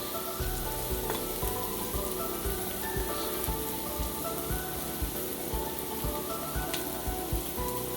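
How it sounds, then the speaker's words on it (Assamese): Chili and coriander powder sizzling in a hot pan for an Assamese hilsa curry cooked with mustard, a steady close crackle with faint stirring scrapes and no voices. "এইখিনি মই দি দিলোঁ, দি পেলাই অকণমান ভাজি ল'লোঁ।"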